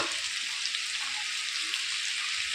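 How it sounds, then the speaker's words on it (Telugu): Chicken frying in oil on a low flame, an even, steady sizzle heard up close for a few seconds, with no speech. "ఇప్పుడు సిమ్ ఫ్లేమ్లో పెట్టేసి మనము ఒక 5 మినిట్స్ ఇలాగే వేయించుకుందాం చికెన్ని"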